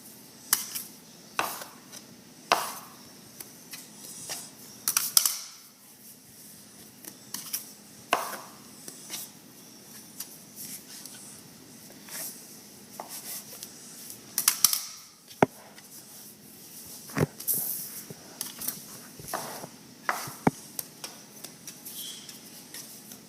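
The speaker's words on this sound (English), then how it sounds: "And then we're going to cut it into portions. We cut it into strips" A knife cuts soft pretzel dough into strips on a work surface, giving a series of short, separate taps and chops at an irregular pace, moderately close, with quiet pauses between the cuts.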